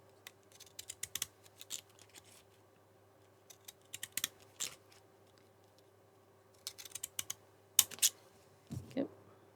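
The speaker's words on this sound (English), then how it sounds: "Now I'm going to match my scissors here and start cutting." Scissors snip through burgundy card to make a border for a simple bow-front greeting card: quiet, crisp clicking cuts in short irregular bursts separated by pauses, over a faint steady hum.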